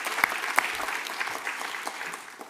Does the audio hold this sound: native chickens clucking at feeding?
no